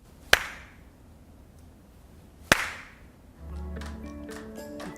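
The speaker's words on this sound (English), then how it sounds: "And now we'll turn the system off, and I'll clap so you can hear how unreverberant it is." Two sharp hand claps ring out about two seconds apart in a room with its reverberation system switched off, each dying away quickly, followed by a faint low hum and soft tones.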